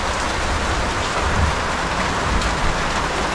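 Heavy rain pours steadily, a dense, loud hiss of drops drumming on surfaces with no break and no voices.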